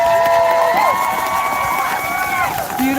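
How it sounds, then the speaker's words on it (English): A crowd at a Denver community gathering cheers and applauds, with loud sustained whoops and high voices riding over a dense bed of clapping. "Give a round of applause."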